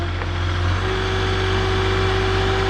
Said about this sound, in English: Give it gas, it'll go faster.